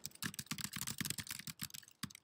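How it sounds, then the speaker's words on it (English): Rapid key presses on a computer keyboard during a React coding demo, an irregular stream of close, crisp clicks with brief pauses and no talk. "So when I start typing,"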